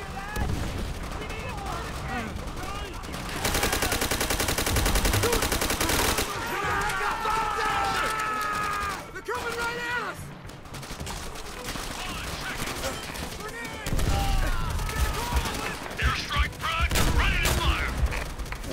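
Heavy battlefield gunfire rattles through the Call of Duty: World at War co-op campaign, with sustained machine-gun bursts, repeated rifle shots and explosions, loud and near, with voices shouting over the combat.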